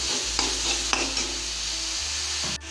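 Ginger and chili frying in a pan for egg vegetable noodles, a bright continuous sizzle broken by a few spatula scrapes and a final clack, with a low steady hum underneath.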